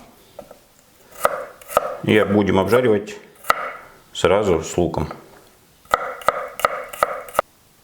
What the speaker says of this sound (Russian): Также нарезаем мелко